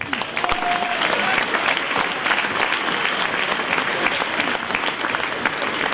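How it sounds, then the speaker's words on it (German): Audience clapping after a patron's address at a local village celebration in Schafhausen, a full, steady round of applause from a hall crowd lasting several seconds with faint voices underneath. "Ihr dürft jetzt ruhig klatschen."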